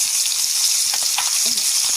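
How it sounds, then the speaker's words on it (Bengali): Pieces of rohu fish fry in hot oil in a pan for a fish curry, giving a bright, continuous hiss with small bursts of crackle and occasional soft stirring. "মাছগুলিকে ভালো করে এপিট করে লাল লাল করে ভেজে মাছগুলিকে তুলে নেব"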